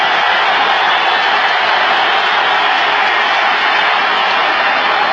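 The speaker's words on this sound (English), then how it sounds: "Crowd getting into it." Football stadium crowd at a 49ers vs Bengals game, a loud sustained roar of many voices with an even, hissing texture and no distinct speech.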